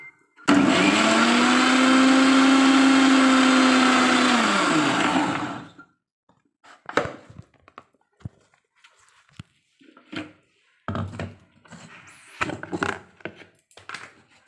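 Blender grinding paneer and smoothie ingredients with a little water, a loud steady whirring motor for about five seconds that winds down and stops, followed by scattered clattering and handling sounds.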